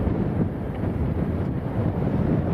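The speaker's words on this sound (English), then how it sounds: "It's blowing a gale, to be honest." Strong gale-force wind at Lanzarote airport buffeting the microphone, a steady low roaring rush that stays loud and even throughout.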